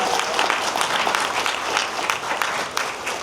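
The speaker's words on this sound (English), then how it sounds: "one more big round of applause for all of us" Crowd applause at the close of a live event, dense, lively clapping with sharp individual claps standing out, fairly near and continuous throughout.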